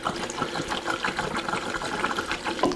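Liquid, likely fuel, pours into an empty metal tank of a 1979 Mustang with an EcoBoost 2.3L swap in a shop, giving a steady hollow gurgling splash with small bubbling bursts, moderately close and continuous.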